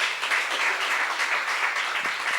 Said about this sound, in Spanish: les pido un aplauso de recepción para Gabriel Rolón y Alejandro Tantanian